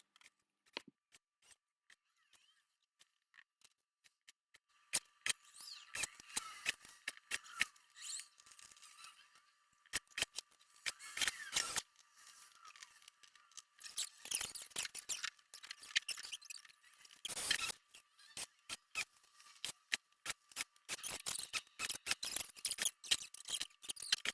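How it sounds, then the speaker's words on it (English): Drywall boards being trimmed by about three centimeters each with a hand tool, a long series of sharp scraping and cutting strokes in irregular bursts, close and moderately loud, with no talking. "So I just had to trim off 3 centimeters more or less on each board."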